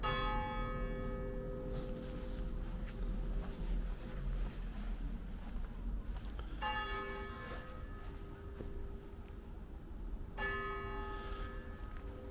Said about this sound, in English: as the bells toll